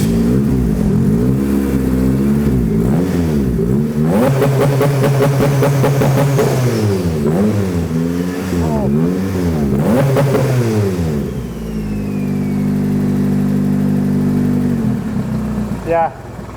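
A forged, turbocharged Honda K20 engine in a buggy starts for the first time, idling loudly then revving up and down in repeated rising and falling sweeps, close and harsh, with clattery mechanical noise and occasional voices nearby.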